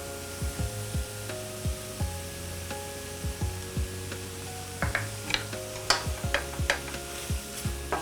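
Flour stirred into mushrooms cooking in butter, soft repeated scraping strokes of a utensil in the pan with light sizzle underneath, fairly quiet and steady, over a faint tonal background hum.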